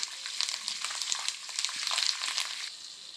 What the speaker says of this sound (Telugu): కరివేపాకు కూడా దోరగా ఫ్రై అవ్వాలి